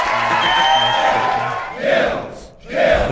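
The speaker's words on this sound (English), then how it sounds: "Audience clap. Can you add that in post?" A crowd cheers and whoops loudly, with a sustained roar that dips briefly and then swells again in a second burst of shouting.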